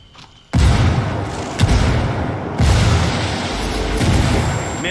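A grenade goes off in a military shooter game as a sudden loud, close boom that rolls into sustained low rumble, with further heavy thuds and blasts following over the next few seconds.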